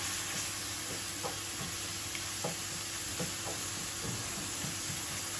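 Bean seeds with a little salt fry in a pan for a kochu shak dish, a steady close sizzle with occasional soft stirring scrapes throughout and no voices.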